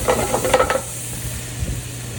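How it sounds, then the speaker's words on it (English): Butter browning and sizzling in a pan with scallops, a steady close frying hiss with a few stirring clinks at the start, without talking. "Our butter's starting to burn here, or brown, mind you."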